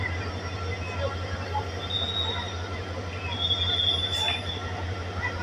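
A crowded passenger train in Bangladesh, people packed on its roof, squeals high and metallic from its wheels over a steady low rumble, with a sharper screech near the end.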